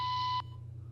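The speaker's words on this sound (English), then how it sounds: "the fire alarm is going off" A fire alarm sounds as a single steady electronic beep lasting under half a second, then cuts off, leaving a low background hum.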